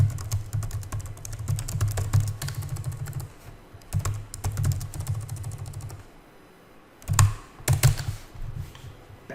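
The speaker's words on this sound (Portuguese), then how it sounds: "Pera aí que meu teclado aqui ficou louco." A computer keyboard is typed on in quick, dense bursts of clicking keys, close and clear, with a short pause before a few more scattered key presses.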